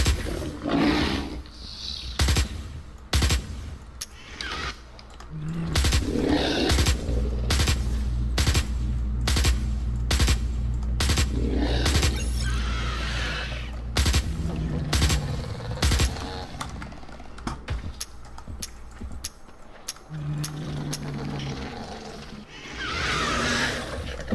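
Gunfire in the shooter video game Osiris New Dawn, rapid sharp shots in irregular bursts over a low rumbling growl, loud and close, pausing briefly partway through.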